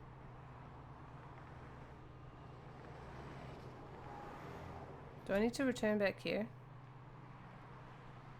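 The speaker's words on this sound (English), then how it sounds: "Yay, car noises." Steady low car-engine hum from the video game Kentucky Route Zero drones throughout, with a brief burst of a person talking over it partway through.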